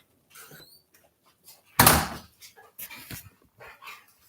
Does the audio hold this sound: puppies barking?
yes